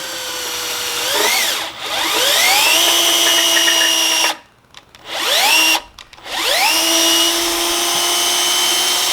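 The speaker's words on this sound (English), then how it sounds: "get you a drill bit that'll fit in between the metal piece of the bushing and then the rubber" A power drill whines loudly in repeated bursts, boring through the rubber of a Chevy C10 rear trailing arm bushing, pitch climbing as it spins up, with brief pauses between runs.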